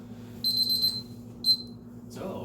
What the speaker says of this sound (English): And we'll set a timer for 22 minutes.